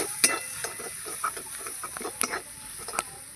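A spoon stirs a sweet filling in a pot right after sugar goes in, producing soft irregular scrapes and light knocks over a faint sizzle, close and fairly quiet.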